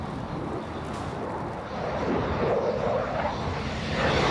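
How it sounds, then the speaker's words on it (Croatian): Military jet engines roar at the Croatian International Airshow over Varaždin, a loud, steady broadband rumble that swells louder in the second half, heard from the ground. "Grmljavina zrakoplova te akrobacije letačkih zvijezda od kojih zastaje dah, ovog su vikenda dominirali nebom nad Varaždinom."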